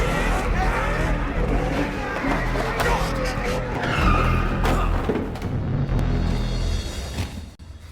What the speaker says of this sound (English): He crashes his car through the front entrance and beats down the guards who rush to stop him.